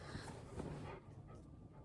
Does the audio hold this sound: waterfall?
no